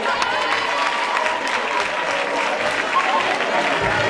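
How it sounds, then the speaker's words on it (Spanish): Audience applause at a school table festival, a dense steady clapping from a crowd that fills the whole stretch with no pauses. "¡Un aplauso!"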